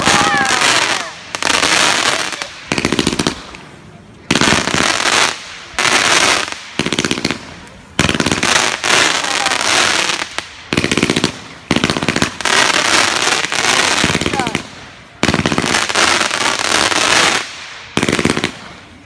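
Fireworks exploding at a backyard firework show, loud bursts of rapid crackling pops in repeated volleys, each lasting a second or two and separated by brief pauses.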